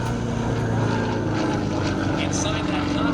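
A Sukhoi SU-31 aerobatic plane flies an outside tumble at an air show, its engine and propeller making a steady, loud droning roar that holds throughout without a break.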